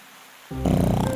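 A wolf snores loudly in a cartoon fairy tale, one long rough rumbling inhale that swells abruptly and holds close and heavy after a brief quiet start.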